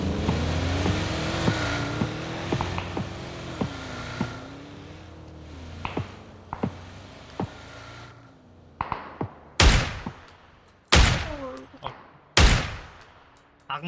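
Turret gunfire in PUBG: a vehicle engine drones while scattered sharp shots crack, building to several very loud, booming blasts near the end, each ringing out before the next.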